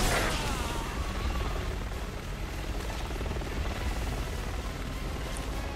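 A helicopter in the video game Resident Evil 6 gives a loud, steady rotor-and-engine drone that fills the whole stretch without letup, with no voices over it.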